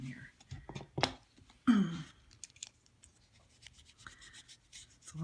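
Rubbing away nail prep from a holographic nail design, heard as close, soft scrubbing and wiping strokes with brief scratchy bursts, mixed with quiet talking.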